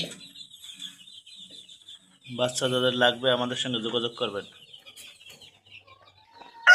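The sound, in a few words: Egyptian Fayoumi chickens clucking and crowing on farm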